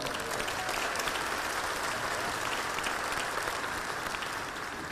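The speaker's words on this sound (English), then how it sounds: "I think it's worth a hearty round of applause for all of you" Hearty audience applause for senators and representatives at a legislative delegation luncheon at a civic center, a full, steady round of many hands clapping at moderate level with no talk over it.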